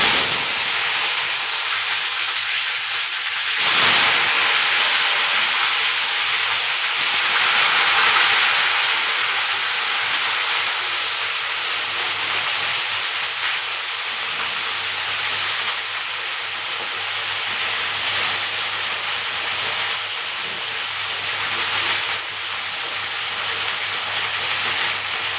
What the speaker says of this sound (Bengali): তেল গরম হয়ে গেছে, রান্না বসিয়ে দিয়েছি। জিরেটা ফোড়নে দিয়ে দিলাম।